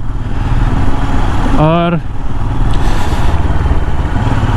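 A Royal Enfield Himalayan BS6 motorcycle rumbles steadily with a low engine drone on a ride, while someone talks briefly over it.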